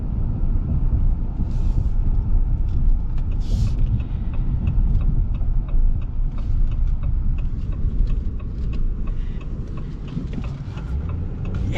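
A 2025 Ram 1500 Big Horn Night Edition pickup with the Hurricane engine, driving. A steady, loud low rumble of engine and road noise carries throughout, with faint ticks above and no talking.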